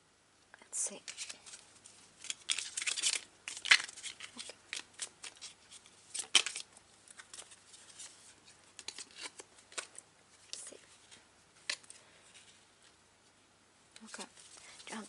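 Tarot cards are shuffled by hand close up, a series of crisp riffling and flicking bursts with short pauses, while someone speaks softly in between.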